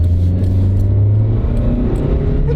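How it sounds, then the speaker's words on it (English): A car accelerating on a busy town street as the gas is pressed, a loud steady engine rumble rising in pitch from close inside the cabin, with no talking. "And we'll step on the gas again."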